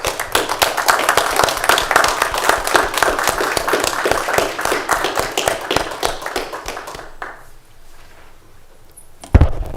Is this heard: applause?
yes